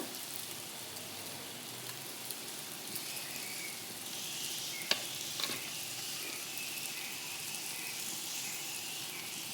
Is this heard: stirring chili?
yes